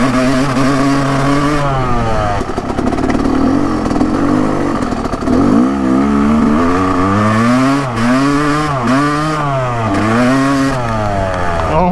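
Dirt bike engine revving hard as the rider sits stuck on a dirt hill climb, a loud close whine rising and falling in repeated throttle bursts with no talk.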